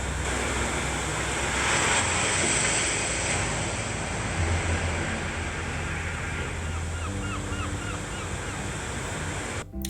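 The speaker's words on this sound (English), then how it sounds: "that's a typical wave sound" Ocean waves wash and surge in a continuous broadband roar, loud and steady with slow swells, a sound-effect track playing alone.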